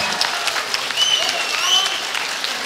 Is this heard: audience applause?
yes